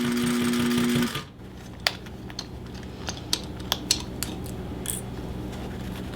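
An industrial sewing machine stitches chest rig fabric, running in a steady, loud mechanical buzz for about a second before stopping, then a few sharp clicks and taps follow in the quieter room.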